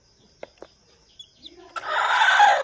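A hybrid hen clucks while nesting under a house. After a few faint scattered sounds, a loud, close burst of raspy clucking fills the last second.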